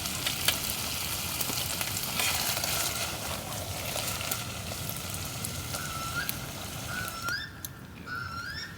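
Steady, dense sizzling of food browning to a crisp crust in a pan over a campfire by a remote New Zealand lake, continuous and close, with faint crackles and occasional bird-like chirps in the background.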